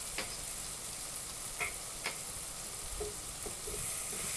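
Spices and masala sizzle in a pan while cooking for jackfruit biriyani, a constant hiss broken by several sharp scraping stirs and clinks of a utensil.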